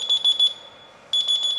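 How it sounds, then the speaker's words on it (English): Phone alarm ringing on a new phone with water under its screen protector: a steady high electronic beeping in quick pulses, pausing briefly and then resuming, close and clear with no talk. "that's my alarm telling me it's"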